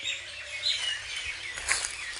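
Birds chirp and call from a large banyan tree beside a pond, a busy chorus of faint, overlapping twitters and high calls with no talk.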